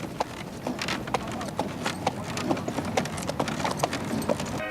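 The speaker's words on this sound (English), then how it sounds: "Leisure lovers will find the horse and carriage tour an ideal way to see more of the Frankenmuth" A horse pulling a carriage on a sightseeing tour in Frankenmuth clip-clops in a steady, regular rhythm of hoofbeats, close and clear over a bed of street noise, with no voices heard.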